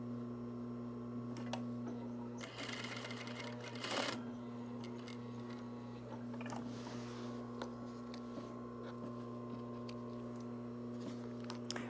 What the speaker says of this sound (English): now we'll stay stitch the strap add our notches